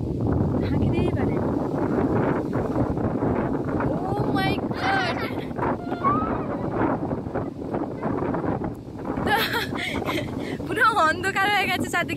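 Strong wind gusts across an open outdoor spot under dark rain clouds in the early evening, buffeting loudly and steadily for the whole stretch, with muffled voices now and then beneath the roar.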